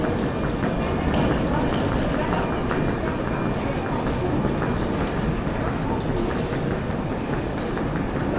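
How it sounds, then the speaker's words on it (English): A TGV double-decker train pulls into Toulon station, a loud steady rumble of wheels on rail with faint clicks and a thin squeal of brakes running throughout, carried on without any talk. "And that's us pulled in and docked at Toulon station."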